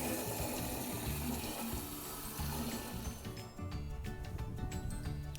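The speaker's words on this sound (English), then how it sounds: "one's filling up the watering can" Water running from a tap into a watering can, a steady close rushing stream with a rising filling tone and a brief dip midway, with no talking.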